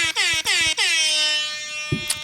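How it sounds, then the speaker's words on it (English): Several loud air horn blasts sound in quick succession, the first three short and the last long and sustained, followed by a brief clatter. "Those were air horns."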